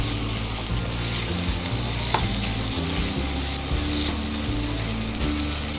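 Minced pork stir-frying in a hot pan for Thai basil pork, a steady loud sizzle with scraping spatula strokes throughout and no voices.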